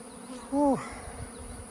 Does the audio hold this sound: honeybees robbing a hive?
yes